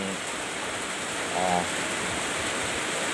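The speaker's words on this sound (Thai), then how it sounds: "กับสายฝนที่โปรยปลายลงมาตอนนี้นะครับ" Heavy rain pours steadily outdoors, a dense, even hiss that stays loud throughout with no break.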